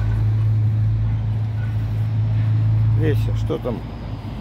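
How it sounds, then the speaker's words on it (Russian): Lorries driving past on a nearby road make a loud, continuous low rumble and hum that fades slightly near the end, while someone speaks briefly over it. "Фуры какие-то поехали, да, шумно"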